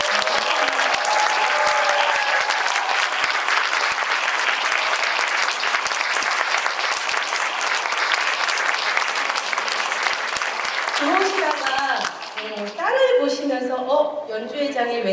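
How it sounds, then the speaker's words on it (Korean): Loud, dense applause from a concert audience at an anniversary performance, continuous for about twelve seconds before dying away as a voice begins speaking. "더 큰 박수로 격려와 응원 한번 해주시겠어요?"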